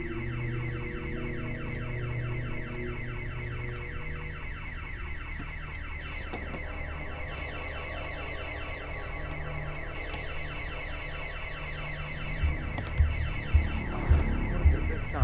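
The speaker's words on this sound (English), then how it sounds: "there's been an alarm set off." An office building's alarm blares continuously at a steady, loud, cycling tone, and a few thuds arrive near the end.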